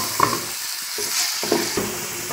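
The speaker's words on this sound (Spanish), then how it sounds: "aquí ya se está friendo la carne, ya se escucha" Meat sizzles and fries in a pan while being stirred for a stuffed chicken dish, a steady crackling hiss with a few scraping stirs, alone and fairly loud.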